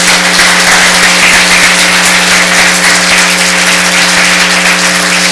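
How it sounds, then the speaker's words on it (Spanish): Audience applause at a book presentation for "Así lo recuerdo" by Agustín Acosta Zavala, a dense, steady wash of clapping filling the room at full loudness from start to finish, with a low constant hum beneath and no voices. "Desde luego, fuerte el aplauso"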